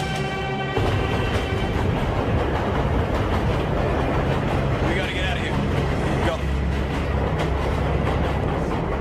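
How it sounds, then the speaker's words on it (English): Train running on tracks, with a steady loud rumble and rhythmic rail clatter close by throughout, and voices talking over it. "This is the train."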